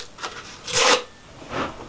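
Coarse 60-grit sandpaper rubbing the edges of a wooden mallet roughly shaped from a chunk of wood, heard as a few short rasping strokes close by, the loudest in the middle, with no talk.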